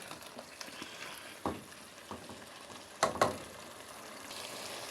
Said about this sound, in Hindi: तो मैं इसकी भुनाई करती हूँ शलजम की